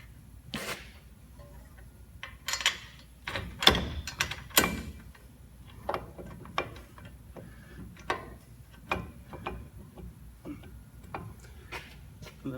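A ratchet tightens bolts on a Chevrolet Silverado or similar GM truck, giving scattered sharp clicks and clacks in uneven bursts, close and moderately loud, over quiet background.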